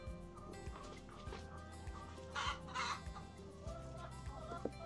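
Farmyard chickens cluck at feeding time on a Martinique estate, short irregular clucks and calls close by with a brief louder flurry midway, moderately faint throughout.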